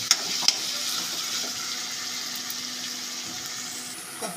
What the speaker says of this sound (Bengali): এবার বাঁধাকপিগুলো দেবো।